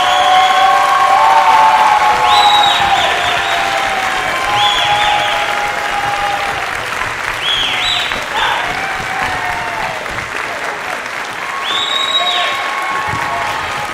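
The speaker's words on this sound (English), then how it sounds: "Can you please give them one more big round of applause?" An audience at a school spring band concert applauds and cheers for the seniors, with continuous clapping under recurring whoops and shouts from several people, slowly fading toward the end.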